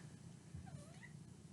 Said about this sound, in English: Sorry, we have a guest today, my cat.